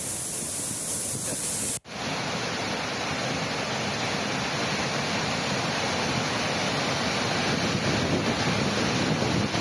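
A loud, steady roar of rushing water from eighteen opened gates of Hatnur Dam releasing into the Tapi River during continuous rain pours on without pause, broken only by one brief dropout near the start.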